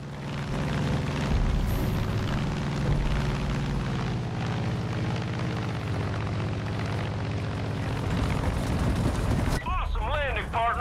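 Propeller airplane in the video game Far Cry 5, a steady loud engine drone throughout with game music and a character's voice over it, ending in a brief burst of higher tones.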